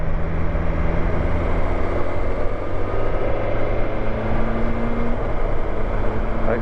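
A BMW S1000XR motorcycle engine pulls from low revs, a dense continuous drone with a rising whine and steady wind rush, close and loud throughout.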